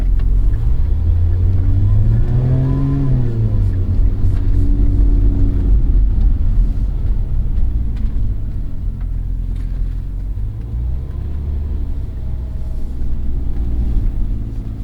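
A 2023 Lotus Emira rumbles loud and close from the cabin, engine note rising then falling as it slows steadily down through the gears with a deep, continuous drone.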